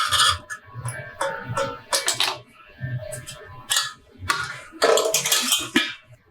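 A knife works loose a set cucumber dhondas, a sweet cake scented with turmeric leaves, from its pan: a run of sharp metallic clinks, taps and scrapes in irregular bursts, close and fairly loud, with no voices.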